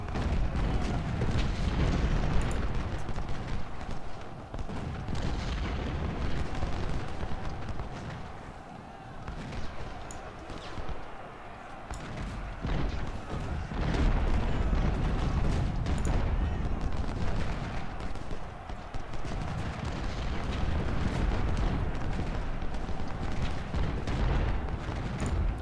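Dense Civil War battle gunfire from Ultimate General Civil War at Shiloh: continuous rolling musketry and distant cannon booms rumble without a break, thick and steady throughout.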